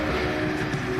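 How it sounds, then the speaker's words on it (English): Old Blitz truck carrying a drill rig at an opal field, its engine giving a steady low mechanical drone with a constant hum, heard from a short distance and unbroken for the whole moment. "That noise you can hear over here is one of these old blitzers,"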